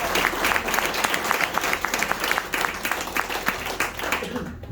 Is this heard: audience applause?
yes